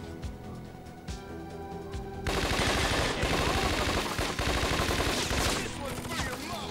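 Dense automatic gunfire in the Scarface video game, a sparse opening that erupts after two seconds into loud, continuous bursts from several weapons, with no talking.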